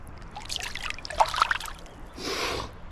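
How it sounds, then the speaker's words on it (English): A brown trout of about 17 inches is released back into the Boise River, giving soft splashing and trickling water sounds with a brief louder splash, followed by a rising rush of flowing water. "Let's get it back in the water."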